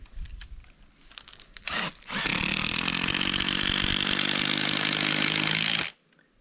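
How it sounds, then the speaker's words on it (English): A Bosch half-inch impact driver drives a 250mm coach screw, hammering loud and continuous for several seconds after a few short bursts and handling noises. "250mm coach screw, your 1/2-inch impact driver, which you get with most Bosch kits"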